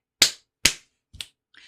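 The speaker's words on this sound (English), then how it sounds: "Clap, clap, stomp. Clap, clap, stomp." Hands clap twice in a steady rhythm, then a softer, duller stomp lands and a brief scuffle follows. The sharp, close percussive beats sound alone, with silence between them.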